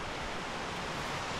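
Waterfall on a sandy trail in the Chapada Diamantina area of Morro do Chapéu, Bahia, a steady, dense rushing roar close by, with no voices.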